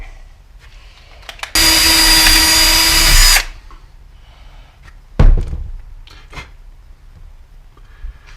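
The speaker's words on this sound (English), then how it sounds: "I'm going to try to really gently drill that a little bit." A power drill whirs steadily for about two seconds while gently boring into brass on a vintage toolbox, close and loud, followed later by a short thunk and faint handling noises.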